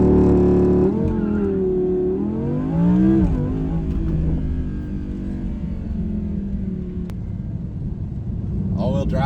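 A supercar with all-wheel drive launches hard using launch control at a drag strip, its engine rumbling and rising in pitch through the gears, loud and close, with voices talking over it.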